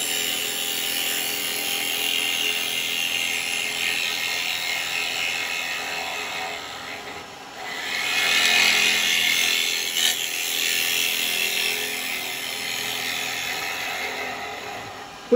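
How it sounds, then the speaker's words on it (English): Wood lathe hollowing out a yew bowl, a steady whirring spin with a gouge cutting in, giving a sustained hissing, shearing tone that swells partway through and stays close and fairly loud throughout. "So, I'm just going to hollow out now at this."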